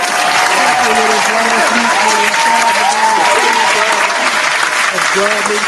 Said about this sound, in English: clap it up for my guest that was here